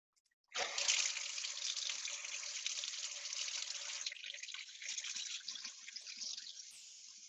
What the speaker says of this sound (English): So to prepare, I'm gonna fill a bowl with warm water.